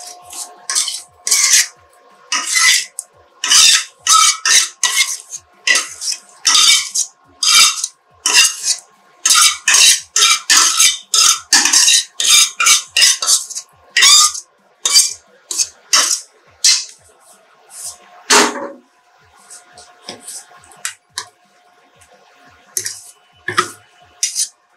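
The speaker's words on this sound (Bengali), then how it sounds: "এবার ইন্ডাকশনটা অফ করে দিলাম, দিয়ে এটা বাটিতে নামিয়ে দিচ্ছি।" Homemade coriander leaf chutney scraped from a pan into a bowl: a long run of sharp metallic spoon clinks and scrapes in quick, irregular bursts, close and fairly loud, with a few short pauses and no talking.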